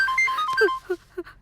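A phone rings with a repeating electronic tone, short high beeps in a quick melodic pattern, close and clear, with a voice overlapping briefly.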